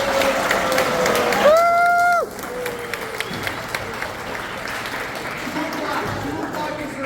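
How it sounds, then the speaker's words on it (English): A high school esports awards night audience applauds the Mario Kart team with steady, moderate clapping from a crowd in a hall, while a tonal whistle or cheer sounds briefly early on. "let's give them a round of applause"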